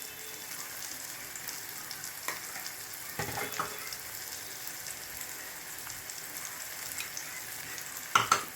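Chili powder, cumin powder and coriander powder frying in a pan for a gutthi vankaya curry: a steady, soft sizzle with occasional stirring scrapes and a couple of sharper clicks near the end.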